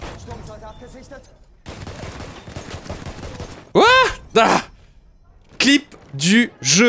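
Gunfire in Battlefield 1, a World War I shooter with the Kolibri pistol and M1903 Experimental rifle, comes as a brief burst of rapid shots and clatter in a busy game mix, with sharp tonal game effects following.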